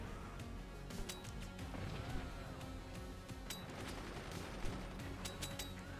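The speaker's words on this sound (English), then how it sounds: "Is that a sniper? That was a sniper." Gunfire and explosions from the artillery and anti-air battle game Forts, a dense barrage of shots and crashes with a few sharper cracks standing out, steady and fairly loud throughout.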